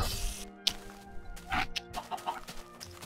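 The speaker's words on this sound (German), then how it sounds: "Hühner dürfen nicht dahinter." Chickens in the video game Minecraft clucking in short, separate bursts, several soft clucks spaced irregularly over a faint tonal background, with no voices.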